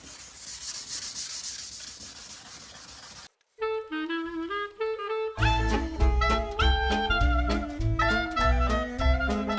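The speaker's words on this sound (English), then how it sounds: "and I'm just going to start sanding" A headlight lens is wet sanded by hand with a green pad, giving a steady close rubbing scrape for a few seconds before music takes over.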